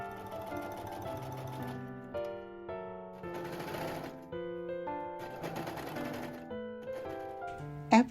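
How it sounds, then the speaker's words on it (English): A sewing machine stitches a blouse's raglan sleeve seam, its motor whirring in several runs that rise and fall in pitch, with brief pauses between bursts and a sharp click at the end; no voices. "Place them right sides together and sew along the seam."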